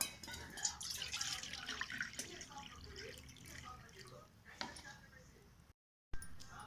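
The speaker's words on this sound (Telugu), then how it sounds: "ఇప్పుడు వాటర్ వేస్తున్నాను" Faint trickling and splashing of water being poured into a bowl while making henna paste, brief spatters fading out, with a quiet voice talking underneath.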